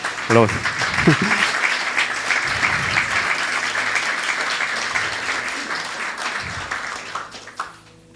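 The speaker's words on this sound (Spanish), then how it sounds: "Denle un fuerte aplauso a Dios." A church congregation claps loudly and steadily in sustained applause during a sermon, with a preacher's voice briefly heard at the start before the clapping tapers off near the end.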